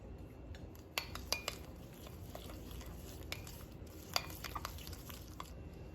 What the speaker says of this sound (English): So I'm starting by mixing the dried seasonings together, followed by the jerk seasoning